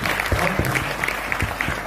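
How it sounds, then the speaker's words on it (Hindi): An audience at a training session breaks into applause, a steady wash of clapping with a few sharper individual claps standing out close by. "तालियां जोर से होनी चाहिए"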